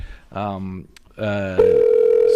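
A telephone call to a podcast guest goes through: a couple of short voice bursts, then a steady, loud ringing tone holds on alone to the end.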